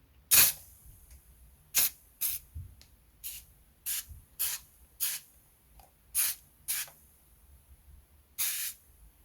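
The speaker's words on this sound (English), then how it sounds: "So we've got a spray starch, so we can set it." Spray starch hisses from an aerosol can in about a dozen short, sharp bursts at irregular intervals, close and fairly loud in a quiet room, applied to parts of a wooden Mayflower ship model kit.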